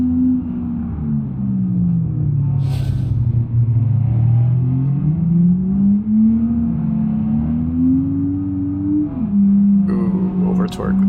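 A loud, raw car engine with no exhaust fitted, in the driving game BeamNG.drive, drones and revs, its pitch rising and falling through gear changes, close and continuous, with brief clicks near the end.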